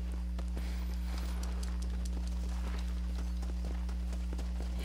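Horse hooves clip-clopping in the Red Dead Redemption video game, a steady, regular rhythm of hoof strikes repeating throughout over a constant low hum, moderately faint.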